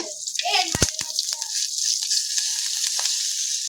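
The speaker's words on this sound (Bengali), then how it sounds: "মরিচটা ভেজে নিচ্ছে ভর্তার জন্য।" Chillies fry in a pan for sesame bharta, a steady bright sizzle running throughout, with a few sharp clinks and faint voices early on.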